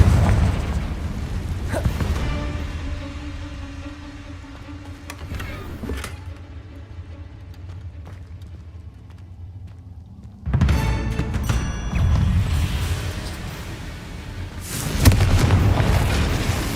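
Confringo blast spells in Hogwarts Legacy: several heavy booming explosions land a few seconds apart, each with a rumbling tail, over a low game soundscape.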